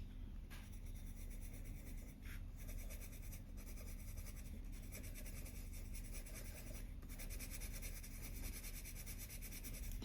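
Colored pencil moving across paper with light pressure, a soft, continuous scratchy rubbing in close, steady strokes, faint and quiet throughout.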